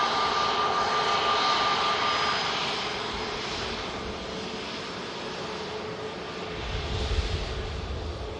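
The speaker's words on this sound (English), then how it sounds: "An 8-year-old Emirates Airbus A380." Emirates Airbus A380 jet engines at Manchester Airport give a steady, broad roar that eases slightly then swells again near the end, with a faint tonal whine at first and no talking.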